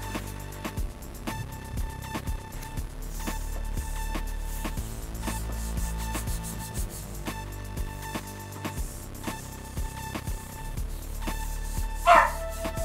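A puppy dog barks repeatedly through the stretch, mixed with steady background sound and a louder burst near the end.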